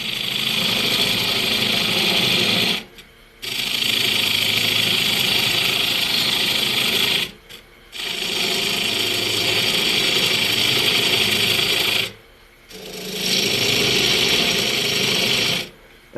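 A gouge cuts a wood bowl blank held to a lathe by hot glue, making a steady, loud rasping hiss in long passes, broken by three short pauses.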